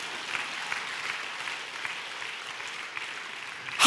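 Congregation clapping during a church sermon, fairly faint and diffuse, steady throughout with a sudden loud burst at the very end.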